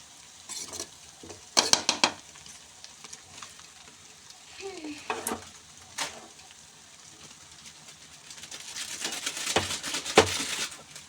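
Cooked rice, leftover or freshly made, being stirred into a hot pan for fried rice: soft scraping and light sizzle with a few sharp spatula clanks against the pan, then a busier stretch of stirring near the end.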